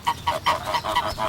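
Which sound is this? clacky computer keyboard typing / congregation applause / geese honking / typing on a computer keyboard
geese honking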